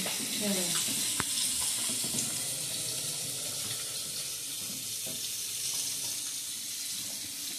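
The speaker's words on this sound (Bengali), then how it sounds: "কারি পাতা ধুয়ে রেখে দিই" Curry leaves are rinsed under a running kitchen tap, giving a steady hiss of water with brief splashes and a few clinks from the sink.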